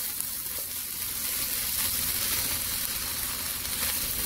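Fried rice with soy sauce is stirred in a hot pan, giving a loud, continuous, close sizzle with scraping stir sounds throughout and no voices over it.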